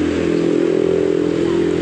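A small gasoline-powered steam sprayer engine that runs but dies when throttled up, idling with a steady, loud, rattling buzz close by, with no voices.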